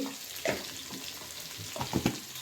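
Garlic, ginger and green chilli frying in a pan for crab sukka, a soft steady sizzle with a few louder bursts of stirring and spatula scrapes near the end.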